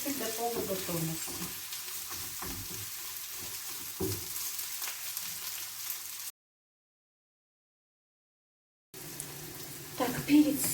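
Bell pepper and onion fry in a pan with a steady, close sizzle. The sizzle cuts to silence for a couple of seconds, then resumes with a few louder stirring bumps.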